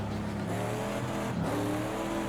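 A GTD Pro race car in an IMSA racing game coasts toward a turn at Daytona, its engine a steady, droning whine with a slight dip in pitch partway through.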